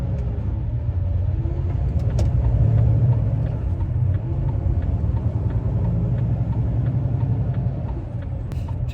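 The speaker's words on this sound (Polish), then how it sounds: "Ten autobus mi podjechał." A bus pulls up close by, heard from inside a loaded 39-tonne truck cab: a heavy low engine rumble swells briefly and then settles, with no one speaking.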